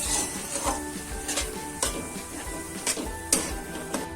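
A spoon stirs half a litre of full-fat milk into a coconut ladoo mixture in a pan, making soft, rhythmic scraping and clinking strokes, fairly faint and close, with no talking.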